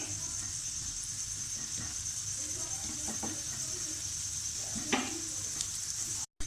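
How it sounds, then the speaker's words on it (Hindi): Onion and garlic frying to a light golden colour in a pan give a faint, steady sizzle with soft stirring clicks and a voice speaking over it. "हमने प्याज को और लहसुन को लाइट गोल्डन करना है"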